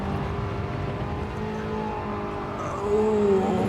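Ferrari 430 Scuderia with F1 clutch gearbox driven in Gran Turismo 7, its engine droning steadily then rising in pitch as it revs up near the end, loud and close with no talking.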